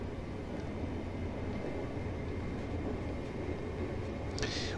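A BR 141 electric locomotive runs with Karlsruhe cab-car coaches in Train Simulator 2018, giving a steady low rumble and rolling rail noise throughout, faint and even with a brief higher squeal near the end.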